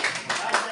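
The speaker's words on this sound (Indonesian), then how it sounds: "Ya, tepuk tangan untuk kita semua" A school group in Indonesia breaks into brief clapping, a quick dense burst of hand claps heard close and fairly loud.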